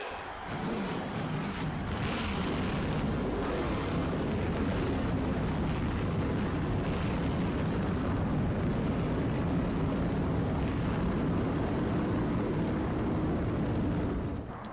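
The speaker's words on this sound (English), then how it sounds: "start your engine." Race car engines in the NASCAR Thunder 2004 video game rumble in a loud, sustained, droning roar that holds steady from start to finish with no speech.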